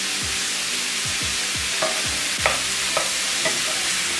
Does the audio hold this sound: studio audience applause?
no